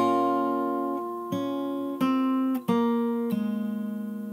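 Fingerstyle guitar plays the opening of a song: clear plucked single notes ring out one after another in a slow, steady melody, close and fairly loud with no talking.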